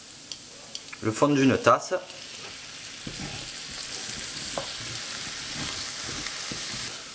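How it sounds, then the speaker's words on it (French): Spices for tikka masala are stirred in a frying pan with a steady low sizzle and scraping. Someone speaks briefly over it near the start. "On va remuer tout ça"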